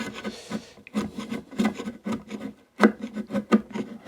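A wood chisel scrapes dried wood glue out of the inside of a mortise in a series of short, dry, rasping strokes, close and uneven, with brief pauses between them.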